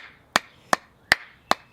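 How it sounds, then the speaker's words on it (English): A piece of wood strikes the top of a wooden spoon four times at an even pace, each a sharp, close, hollow knock with a brief decay in between. "Take the piece of wood and hammer the top of the spoon."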